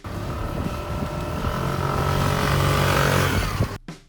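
A Suzuki Access 125 BS-VI scooter engine accelerates on the road, a steady rising drone with heavy wind rush that builds and then cuts off abruptly, loud and close with no talk.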